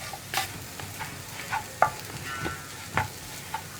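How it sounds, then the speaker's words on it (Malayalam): A spoon scrapes and taps through a spiced lentil (parippu) powder mix in a pan, giving scattered soft clicks and scrapes over a quiet, faintly sizzling background. "കുറച്ച് സമയം കൂടുമ്പോൾ ഒന്ന് ഇളക്കി കൊടുക്കുക"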